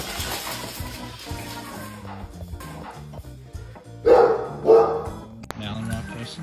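A German Shepherd guard dog barks at Halloween decorations being set out, two loud close barks standing out over background music and other sounds.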